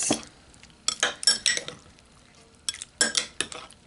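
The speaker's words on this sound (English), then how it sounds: "Give it a little mix." Food mixed in a dish with a utensil: separated bursts of clattering, scraping strokes against the dish, in two clusters with short quiet gaps between them, close and clear with no one speaking.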